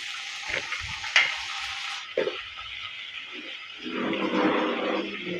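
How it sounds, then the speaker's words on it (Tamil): Sliced brinjal sizzles and frying in a pan while a spatula stirs and scrapes it, with scattered clinks early and a louder, steadier sizzle building toward the end. "இந்த கத்திரிக்காய் நீளவாக்கில் வாக்கில் கட் பண்ணி வச்சுருக்கேன் இப்போ அதையும் சேர்த்துக்கலாம்"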